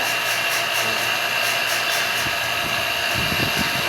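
A vacuum pump evacuates the line of a newly installed flat-type air conditioner, making a steady, loud mechanical drone with a constant whine that holds unchanged throughout, close by and with no speech.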